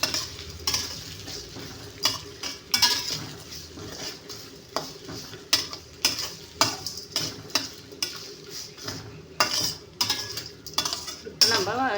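Vegetables are stirred in a hot pan, with repeated clinks and scrapes of a utensil against the metal over a light sizzle in a steady, uneven rhythm close up.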